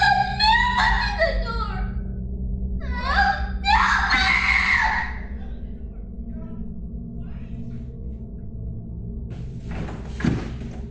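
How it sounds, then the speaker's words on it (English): A child screams in terror at night in a house, a series of loud, high cries and wails over the first five seconds, followed by quieter background noise and a faint thump near the end. "they suddenly heard their son screaming in terror."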